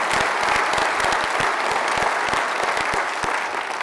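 Audience applause greeting Jeffrey Immelt at a Reagan Forum event, sustained crowd clapping with distinct sharp claps standing out over a steady dense wash, fading slightly at the end.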